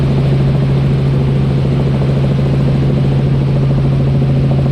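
Training helicopter in flight with the engine running, a loud steady drone with a strong constant low hum and rotor throb, heard from inside the cabin with no talking.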